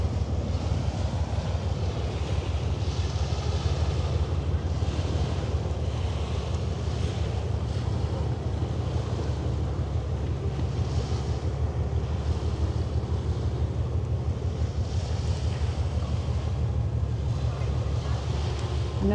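A ship passes on the Elbe on a summer evening, a low continuous rumble of engines and water wash under steady wind noise on the microphone.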